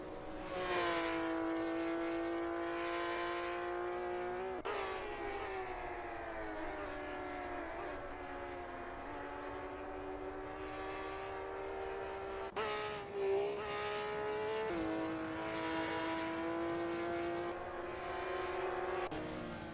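Race cars lapping in the ACL GTR Cup at Riverside Short in a GTR racing video game, a steady high engine whine held at near-constant pitch with occasional gear-shift breaks, continuous and alone.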